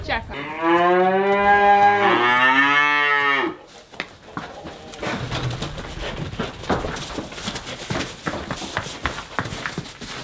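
A cow on a farm lets out one long, loud moo while the herd is brought in for milking, followed by shuffling hooves and scattered movement nearby.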